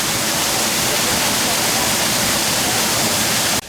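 Steady, loud broadband rush of a zoo waterfall in a lemur exhibit, continuous and close, cutting off abruptly near the end.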